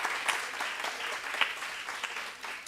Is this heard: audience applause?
yes